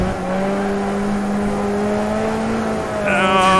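A turbocharged BMW X5 on bigger tires revs hard while drifting, its engine holding a strong, steady drone that climbs in pitch near the end, loud and close.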